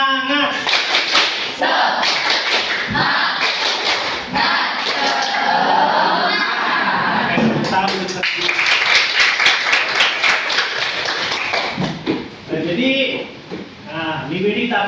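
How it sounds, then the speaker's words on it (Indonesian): Junior high school students in a classroom perform a rhythmic spirit clap together, loud patterned bursts of many hands with chanted voices mixed in, stopping briefly and restarting in quick sequences. "Tepuk semangat."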